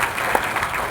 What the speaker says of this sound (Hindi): एक बार मयंक के लिए भी तालियां बजा दीजिए।